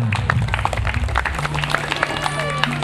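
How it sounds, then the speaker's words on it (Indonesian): Audience clapping at an Islamic religious talk about umrah, rising as a burst of hand claps mixed with crowd murmur and some background music, busy and fairly close. "kita beri tepuk tangan"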